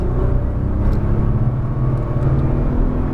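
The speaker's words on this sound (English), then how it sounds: "Squeeze that throttle, coming out wide. Full power, staying left." A Nissan GT-R's engine roars at full throttle on a race track, a loud steady in-car drone with a deep rumble and no talk over it.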